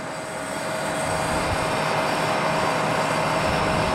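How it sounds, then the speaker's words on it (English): Refrigeration compressor of a walk-in cooler that is not cooling, running hard with a loud steady drone and a constant hum, alone without talk. "So our compressor is obviously doing more work because it has more refrigerant to move."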